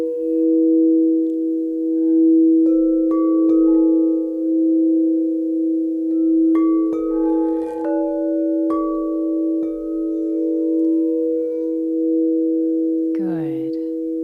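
Crystal singing bowls tuned to 432 Hz in a full-moon meditation, ringing with smooth, steady sustained tones; a few higher notes are struck and layered over the hum, and a brief swell rises near the end.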